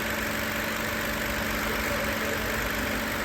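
A car engine idles steadily at rest, a constant low hum with slight vibration and no revving, close and unbroken for a few seconds.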